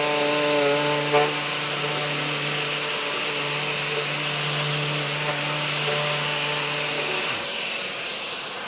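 A 3x4 orbital sander whines steadily against maple wood, its buzzing hum holding level before winding down near the end.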